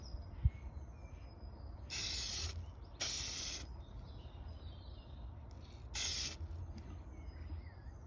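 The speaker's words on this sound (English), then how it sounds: "Nice little rattle can job." Universal clear coat sprayed from a rattle can onto a watch dial: three short, loud hissing bursts of about half a second each, close by, separated by quiet gaps, with no voices.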